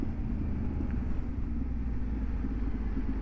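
Triumph Tiger 900 Rally Pro engine pulling at low RPM in third gear, a steady deep rumble with continuous wind and road noise, loud and unbroken throughout.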